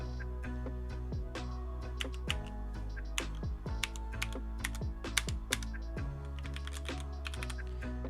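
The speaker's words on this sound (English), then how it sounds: "This keyboard has red switches, which you can hear." Fingers type quickly on a SteelSeries Apex 7 TKL mechanical keyboard with red switches, producing a steady, close run of light clacks and taps over a low background hum.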